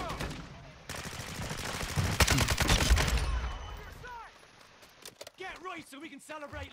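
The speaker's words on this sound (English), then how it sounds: "I've been shooting at them." Rapid bursts of gunfire in a battle royale game ring out in dense volleys, loud through the middle, then thin out to scattered shots while a player talks.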